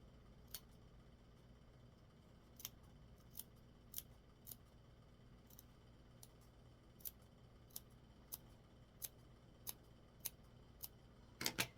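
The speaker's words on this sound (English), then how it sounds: "we are going to cut notches down the neckline so that the fabric will turn to the inside in a pretty way" Small scissors snip notches into fabric along the neckline of a tiny four-inch doll dress, producing about a dozen crisp, isolated clicks spaced a second or so apart over a quiet background hum, ending with a quick double snip.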